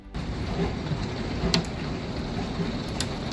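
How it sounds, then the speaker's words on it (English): Dense, steady hail patter drums down over Bolivar with a rough, noisy roar, a couple of sharper cracks cutting through near the middle and end. "The sky over Bolivar shakes as hail pounds down, while tornado sirens sound"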